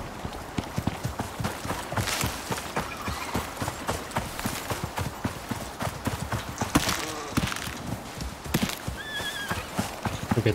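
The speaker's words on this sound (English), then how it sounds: "there is a horse following us" Horse hooves clip-clop in a steady rhythm while a horse whinnies in the Icarus survival game, a tonal neigh rising near the end over continuous ambient noise.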